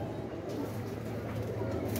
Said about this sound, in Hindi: यार यह कबूतर बहुत शानदार कबूतर